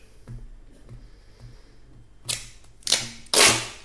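Three sharp, loud ripping bursts of adhesive tape being pulled off a roll, each one stronger, after a few soft ticks and taps.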